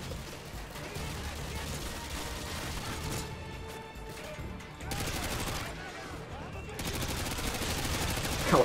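Bursts of rapid automatic gunfire and crashing impacts from a Call of Duty: Modern Warfare 2 match, rattling in dense volleys with brief lulls, mixed under a player's talk.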